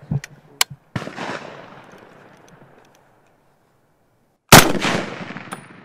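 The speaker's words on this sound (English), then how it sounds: "about to shoot the M1 Garand 30-06." An M1 Garand .30-06 rifle fired outdoors, two loud sharp reports with a booming echo that rolls away, plus a few small clicks and knocks at the start.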